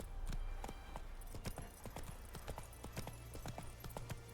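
Hoofbeats of Geralt's horse galloping in the video game The Witcher 3, a steady clip-clop of sharp hoof strikes over a low, continuous background score, loud and close throughout.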